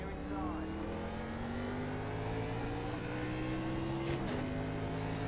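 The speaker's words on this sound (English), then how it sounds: "I like the sound of this car." A race car engine in an iRacing oval race drones steadily at high revs, with a quick shift-like dip in pitch toward the end, loud and continuous.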